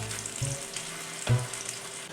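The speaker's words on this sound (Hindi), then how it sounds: "इसी तरह तमाम कबाब फ्राई कर लेंगे।" Shami kebabs frying in a pan of oil, a steady close hiss with a couple of brief thumps from the cookware, no voices.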